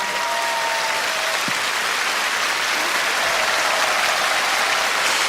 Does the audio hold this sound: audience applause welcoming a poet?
yes